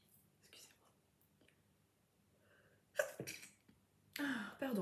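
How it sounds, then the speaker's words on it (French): A person sneezes twice close by, a sharp burst followed a moment later by a second louder one, after soft whispered talk and quiet rustling. "J'ai envie d'éternuer."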